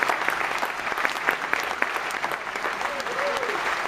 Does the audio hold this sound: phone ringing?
no